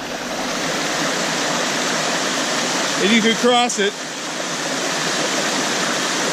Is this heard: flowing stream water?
yes